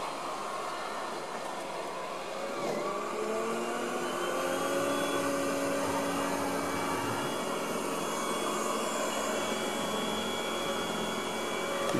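A Yeedi Vac Max robot vacuum with a side brush runs on a floor, giving a steady, moderately quiet motor hum and whir with some shifting tones as it moves, no talking.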